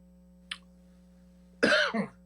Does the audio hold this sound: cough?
yes